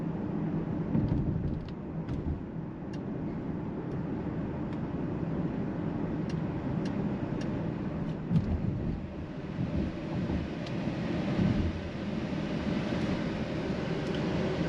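A 2023 Mercedes GLC 300 SUV cruises smoothly on the road, heard from inside the cabin as a steady low rumble of tyre and road noise with soft wind, occasional faint clicks, and no talking.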